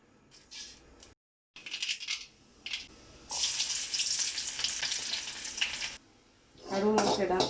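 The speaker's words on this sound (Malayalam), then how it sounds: "കടു പൊട്ടിച്ച്, വെളിച്ചെണ്ണയിലാണേ കടു പൊട്ടിക്കേണ്ടത്" Mustard seeds splutter in hot coconut oil, crackling and popping in short bursts and then in a longer, dense sizzle, close by. A voice speaks briefly near the end.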